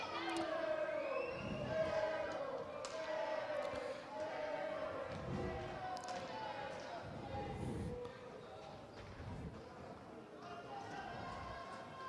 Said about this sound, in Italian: Rumoreggia la tifoseria seregnese.